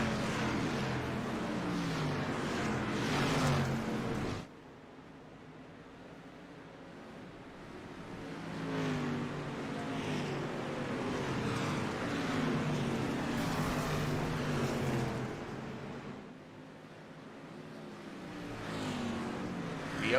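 Dirt track race cars racing at Eldora: a steady, roaring wash of engines swells and fades as the pack passes, briefly dropping to a quieter lull before building again, heard from a distance.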